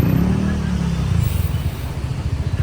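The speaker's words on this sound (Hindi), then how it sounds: "शाम में हमारे होटल के बाहर फुल ट्रैफिक लगा हुआ है" Heavy evening road traffic passes outside a hotel in Pattaya, with car and motorbike engines rumbling and pulsing nearby in a continuous moderate drone.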